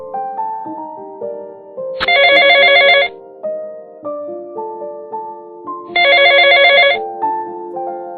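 A telephone rings twice in bright electronic bursts, about a second each, separated by a pause with a soft musical tone continuing underneath.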